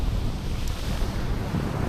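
Strong sea waves break at a sandy beach resort, heard as a steady loud wash of surf mixed with heavy wind rumble on the microphone, with no talking.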